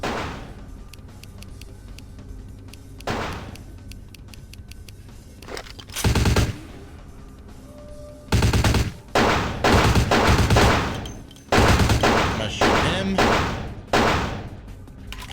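Automatic gunfire in Vampire: The Masquerade - Bloodlines: loud, clipped bursts of rapid shots, one at first and then several in close succession, separated by quieter gaps of low background ambience.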